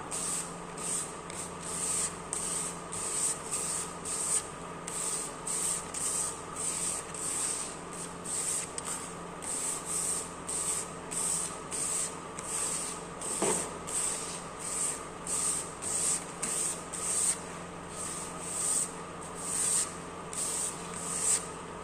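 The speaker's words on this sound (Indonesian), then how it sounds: "kemudian kita amplas kembali menggunakan kertas amplas grade 400 ini" Hand sanding with grade 400 sandpaper, light pressure, gives a steady rhythmic rasp of repeated back-and-forth strokes, close and fairly quiet, continuing for the whole stretch with no talking.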